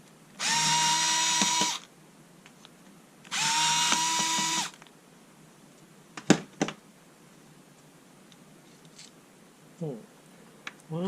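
A power screwdriver backs out the motor screws on a Ryobi 18V reciprocating saw in two close, loud whirring bursts of about a second each, followed by scattered clicks and small handling noises.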